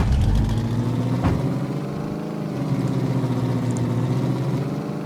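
A truck engine in the video game Factory Simulator drones loudly and steadily at idle, a deep continuous hum with a brief knock near the start and no talking.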